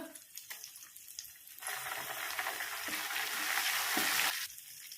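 Cumin, turmeric, cut dried red chillies, curry leaves and chana dal fry in oil for a raw mango and tomato chutney, a steady close crackling sizzle that swells midway and then eases, with no talking.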